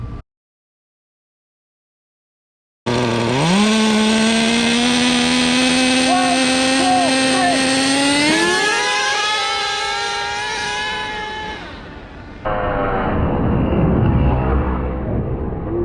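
A Megatech Nitro Airstrike model plane's M46 nitro engine starts abruptly after a silence and screams loudly nearby, its high buzzing pitch rising sharply midway, then dropping lower before surging again.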